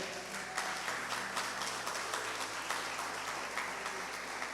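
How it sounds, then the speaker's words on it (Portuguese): A congregation at an Assembly of God church service claps for the Lord, faint and steady clapping spread across the room over a low background hum. "Dê uma salva de palmas para o Senhor."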